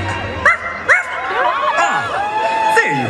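Small dog at a Disney Halloween fireworks show gives a few sharp yips and whimpers over a busy, echoing crowd and music background.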